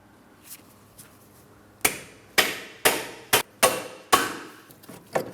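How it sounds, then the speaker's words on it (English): A hammer tapping down on a socket set against the steering knuckle of a 2004-2008 Pontiac Grand Prix to break the ball joint free: two faint taps, then five or six sharp metallic strikes at close range. "We're going to lightly tap down on this."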